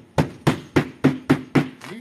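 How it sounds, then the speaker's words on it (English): Six sharp, evenly spaced hammer blows pound down metal lath over tar paper on wood, each a close, solid thud with a brief metallic ring. "you take that damn hammer and you pound that shit"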